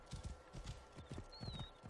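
Horse hooves in the video game Assassin's Creed Origins: faint, steady clip-clop footfalls at a brisk rhythmic pace, with a brief whistle-like tone partway through.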